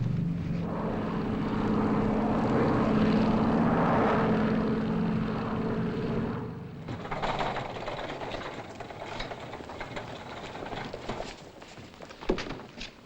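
Propeller airliner droning steadily in its landing pattern, a loud, continuous engine hum that eases after about six seconds into a lower rumble with scattered cabin knocks and rustles.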